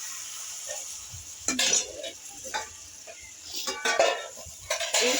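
Mushrooms sizzle and fry in a pan with spices, with repeated stirring scrapes and clinks of a utensil against the pan over a steady hiss.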